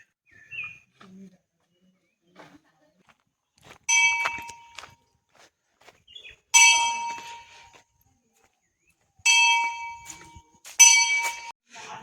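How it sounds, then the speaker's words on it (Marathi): A bell at a village Hanuman temple is struck in about four separate bright, ringing bursts with quiet gaps between them, and faint voices can be heard in the pauses. "इथे घंटा,"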